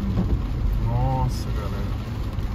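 Heavy rain during a thunderstorm on an avenue in Balneário Camboriú: a dense, steady wash of rain with low rumbling underneath, while someone talks over it.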